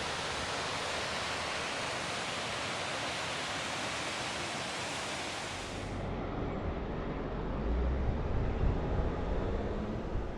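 A mountain waterfall beside a highway pours in a steady, loud broadband rush of cascading water that fills the whole stretch, shifting to a deeper roar partway through.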